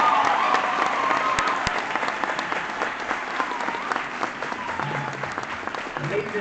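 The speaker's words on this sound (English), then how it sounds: "please give them a loud, thunderous round of applause." An audience at a school award ceremony claps steadily for performers leaving the stage, a dense, sustained round of applause with crowd noise.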